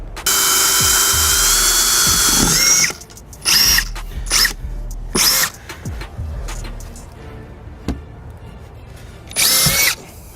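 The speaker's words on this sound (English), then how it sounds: "we need to actually drill this out because those are rivets" A power drill whines loudly for a few seconds drilling out rivets on an electric golf cart, then several shorter bursts of drilling follow with pauses and clunks between them.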